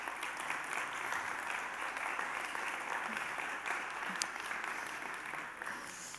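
Steady, dense applause from a seated audience welcoming the guests of a round-table panel on non-sexist narratives in video games, holding at an even level for the whole stretch with no talk over it.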